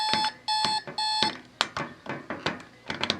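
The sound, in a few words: Spartus Model 1208 alarm clock alarm sounding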